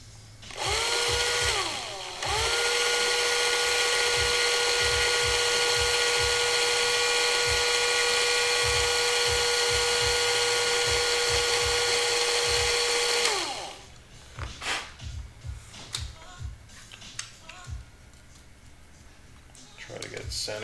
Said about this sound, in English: we're going to try to drill a straight hole into these guys